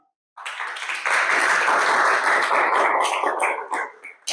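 Studio audience bursts into applause on a school quiz game show, a dense wash of clapping that starts abruptly, holds strong and full, then thins and tapers in uneven bursts near the end.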